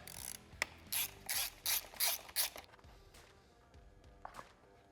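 A ratchet clicks in about six quick, close bursts while removing the backing plate from a gummed-up motorcycle carburetor, followed by quieter handling noises.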